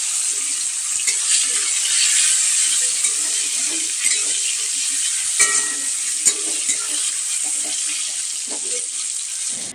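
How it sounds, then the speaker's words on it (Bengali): Tomatoes sizzle in hot oil in a pan, a loud, steady crackling hiss that runs throughout with occasional stirring clatter and spatter. "তো তেলটা এসে গেছে, টমেটোগুলো দিয়ে নিলাম"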